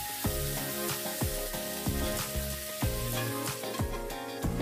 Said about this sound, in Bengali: দিয়ে মাছগুলো আমি হালকাভাবে ভেজে নেব